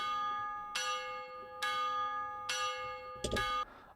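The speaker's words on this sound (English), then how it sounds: "It's this plugin called Tubular Bells by Versalian Studios." Tubular Bells plugin by Versilian Studios plays four resonant bell strikes at an even pace, each a bright metallic clang with a long sustained ringing tone, clean and alone in a music production setting.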